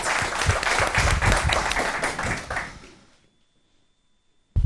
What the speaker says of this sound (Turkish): o güzel alkışlarınız için çok teşekkür ediyorum